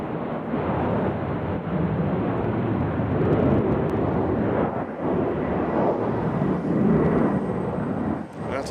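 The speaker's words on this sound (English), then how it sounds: "That's a Delta taking off." A Delta airliner takes off at Nashville International Airport, heard as a steady, heavy jet roar that holds loud and broad throughout, with a slight dip near the end.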